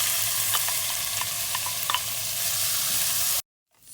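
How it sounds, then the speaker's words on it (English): Onion sizzles in hot coconut oil with a steady close crackle and a few light spatters, then cuts off abruptly into silence near the end. "We add in our onion and we saute that until golden brown."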